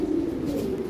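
A toy Lahori Sirazi pigeon gives a single steady, low coo up close, a soft sustained hum with no talking over it.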